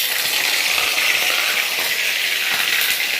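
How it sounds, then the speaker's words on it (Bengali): Pieces of rui fish fry in hot oil, giving a loud, continuous sizzle with crackling spatter that holds steady throughout, with no voices. "তো তেল ছিটকাচ্ছে।"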